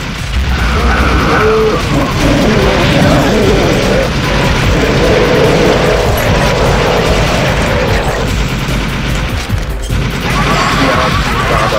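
Explosions in The House of the Dead 4 zombie shooter game, a dense continuous barrage of crashes and blasts with gunfire, loud throughout with faint voices underneath.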